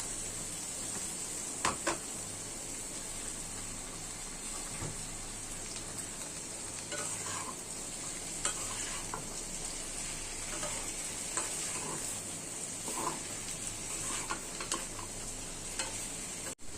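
Chopped vegetables fry in a pan for a bhaji with a low, even sizzle, with occasional light stirring clicks and taps over the steady hiss.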